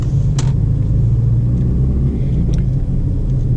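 A car pulling away in second gear on a driving-test route in Laval, engine note steady and rumbling, close and continuous with road noise throughout.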